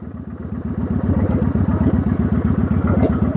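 A motorcycle revving in neutral, its engine throbbing loud and close in quick, pulsing bursts, with a few sharp metallic clicks over the roar.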